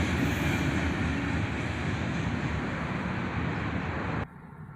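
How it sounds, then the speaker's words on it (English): A Norfolk Southern freight train rumbles past with a broad, loud roar of wheels and cars, then cuts off abruptly near the end as the last car clears. "And there's the end of the train."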